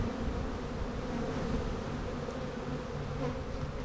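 A dense swarm of bees hums in a steady, close buzz as they pour down into a hive, continuous with no voices.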